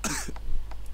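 A character in the video game The Sims 1 gives a single harsh cough at the start, followed by a couple of short, quieter throat sounds.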